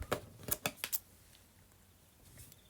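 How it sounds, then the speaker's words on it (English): Scissors snipping wool yarn during crocheting, four quick close crisp cuts in a row followed by quiet rustling. "this is the point for the arms where you need to cut the wool"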